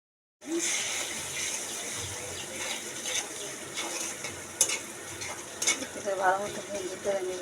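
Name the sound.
onions frying and being stirred in a pan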